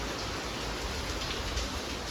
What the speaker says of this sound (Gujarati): એટલો વરસાદ ચાલુ થઈ ગયો છે